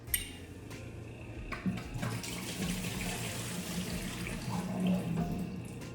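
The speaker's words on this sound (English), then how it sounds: "I'm going to obviously pour out the water." Water pours out of a houseplant pot during repotting, a steady splashing flow like a running tap for several seconds, moderately loud with no talk.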